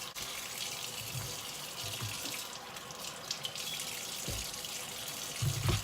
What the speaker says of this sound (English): Make sure that you rinse everything too